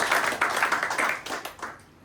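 A congregation at a Sunday church service applauds with a scattered run of quick hand claps, fairly close and moderately loud, thinning out toward the end.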